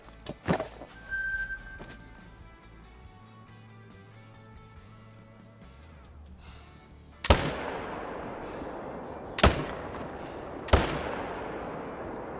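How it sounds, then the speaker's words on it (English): Three loud, sharp hunting rifle shots in theHunter: Call of the Wild during a mule deer hunt, spaced a few seconds apart after a quieter lead-in, each with a short echoing tail. "Let's shoot those guys."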